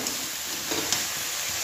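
Masala spices sizzling and being stirred in hot oil for akuri sabji, a steady, close frying hiss with a few soft scrape accents throughout.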